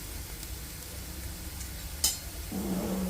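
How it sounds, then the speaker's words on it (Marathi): Onion with turmeric and chili powder frying in oil, a soft steady sizzle throughout with a brief clink partway and a slightly louder sizzle near the end. "आता हा कांदा छान गोल्डन ब्राऊन होईपर्यंत आपण याला तेलात परतून घेऊया"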